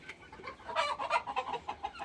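Several desi (native) chickens on a farm cluck in short, choppy bursts, fairly close and moderately loud, with no talking.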